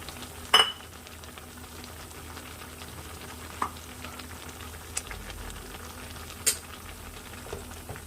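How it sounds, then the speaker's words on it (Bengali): A spatula stirs ground matar dal paste into simmering pumpkin greens: a quiet, soft bubbling runs throughout, with a few sharp scraping clinks against the pan spaced several seconds apart. "এবার ভালো করে আমি খুন্তি দিয়ে মিশিয়ে নিচ্ছি ডাল বাটাটা যাতে এক জায়গায় দলা না পেকে যায়"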